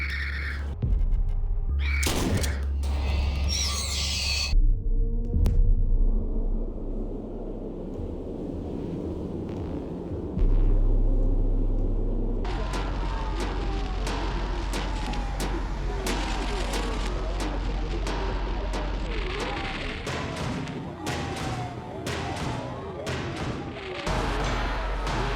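Ambient sound from the video game Signalis: a dark rumbling drone with scattered crashes and glitchy bursts, then dense crackling static and noise building over a sustained low hum, with no talk.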